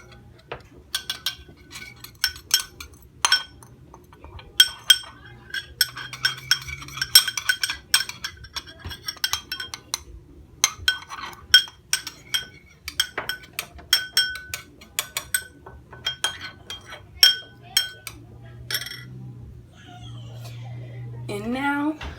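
A spoon stirring a honey glaze with lemon juice in a bowl, heard as a run of small irregular clinks and taps against the bowl under quiet kitchen room tone.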